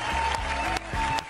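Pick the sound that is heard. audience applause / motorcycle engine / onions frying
audience applause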